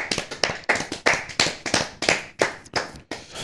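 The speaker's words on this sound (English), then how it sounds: "All right, clap it up." Crisp, close hand claps in a podcast studio, about a dozen sharp slaps in a fairly steady, slightly uneven rhythm, each ringing briefly, with no talking.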